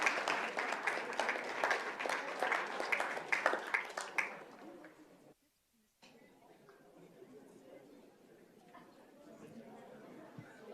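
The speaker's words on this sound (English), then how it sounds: "One more huge round of applause for all of our athletes and Coach Wood." A crowd at a school board meeting gives a round of applause for athletes and their coach, clapping for about four seconds before dying away into a brief silence and quiet murmuring chatter.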